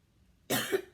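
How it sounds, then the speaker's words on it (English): A person coughs loudly and close up, a burst of rough coughing followed by a second short cough, while sketching and colouring a card. "Excuse me, I got a cough again."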